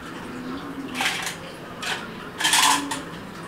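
A metal spoon clinks against dishes during a meal of rice and curry, with three bright clattering bursts at irregular intervals and no talk.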